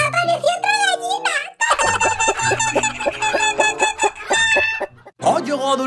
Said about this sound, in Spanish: ¡Apareció otra gallina!